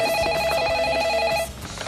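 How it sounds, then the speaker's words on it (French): A telephone rings with a loud, continuous electronic trill lasting over a second before cutting off, leaving only faint background noise. "Téléphone!"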